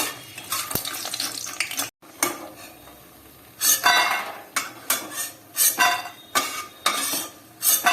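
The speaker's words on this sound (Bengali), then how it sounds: "আমি এবার এই বড়িগুলো এর মধ্যে দিলাম, একটু নেড়ে চেড়ে নাবিয়ে নেব।" Lentil dumplings (bori) frying in hot oil in a wok, with repeated metallic scrapes and clinks of a spatula stirring them over a steady sizzle, in short rhythmic bursts.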